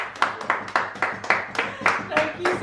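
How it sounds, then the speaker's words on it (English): A small group gives a round of applause after a home burrito challenge, about nine quick, bright claps in a steady rhythm, close and clear. "Make a round of applause as well."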